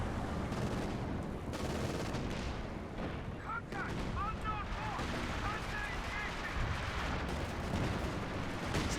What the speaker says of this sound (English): That would be a strafing run against the MG, and hopefully killing the infantry as well.